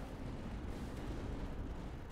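Continuous dense rumble of explosions and artillery fire in the war strategy game Tower Dominion, a steady loud battle barrage with no distinct separate blasts and no voices.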